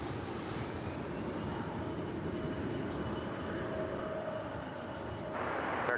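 Steady, broad jet roar from an airliner departing DFW airport, a continuous distant engine rumble that holds level throughout and swells slightly near the end.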